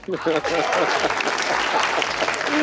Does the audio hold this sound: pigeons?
no